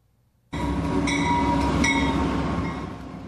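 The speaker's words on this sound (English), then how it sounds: "Let's hop aboard for part two of Amtrak's California Zephyr Eastbound." Amtrak California Zephyr passenger train riding eastbound, a steady loud interior rumble of rolling wheels with faint rail squeals and clicks, starting abruptly after a brief quiet and continuing without talk.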